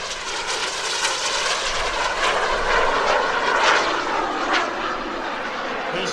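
An FLS Microjet makes a high-speed pass at the Greenwood Lake Airshow. A loud, sustained jet roar swells and shifts in pitch as it sweeps past over about six seconds.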